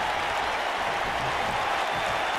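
A large arena crowd in the WWE 2K19 wrestling game roars steadily through a Royal Rumble match, a dense, even wash of cheering and applause with no breaks.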